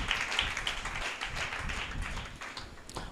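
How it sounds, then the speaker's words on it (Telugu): A church congregation claps together in praise of God, a steady crowd of taps and claps, moderately loud and continuous for a few seconds. "చప్పట్లు కొడి దేవునికి స్తోత్రం చెల్లిద్దాం."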